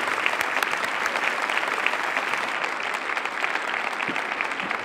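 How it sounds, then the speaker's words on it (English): An audience gives sustained applause to a guest speaker, the mayor of Jalapa City, at a large public video conference: a dense, even roar of many hands clapping throughout. "Please give him a grand round of applause."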